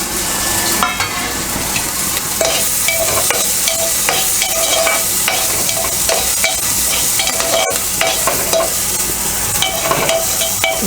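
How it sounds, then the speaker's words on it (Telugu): Onions, green chillies and dried red chilli pieces frying in a pan for palak dal, with a loud, continuous sizzle broken by repeated scraping stirs, heard up close and with no talking. "ఉల్లిపాయలు, పచ్చిమిరపకాయలు కొంచెం వేగిన తర్వాత ఈ ఎండుమిరపకాయ ముక్కలు వేసుకోవాలి."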